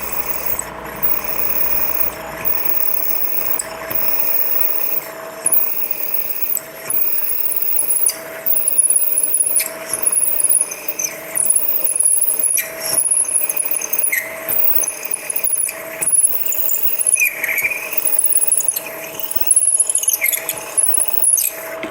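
A machine drill whirs steadily with metallic ratcheting and grinding, drilling into a main bearing cap for a Top Fuel engine, growing louder and busier over time, with no voices.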